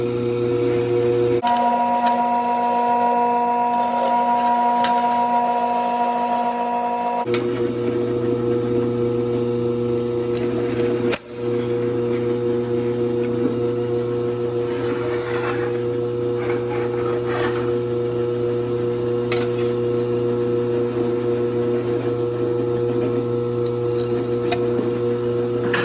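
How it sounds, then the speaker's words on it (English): An electric drill runs in a long, steady whining drone as it bores out holes in sheet metal for a Hobie Outback kayak mod, with the motor pitch shifting a couple of times and a brief sharp break midway. "Go drill those out real quick."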